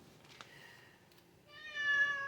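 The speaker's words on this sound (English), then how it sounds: "And my cat's meowing." A house cat meows clearly and up close, a drawn-out tonal call in the second half after a quieter stretch of room noise.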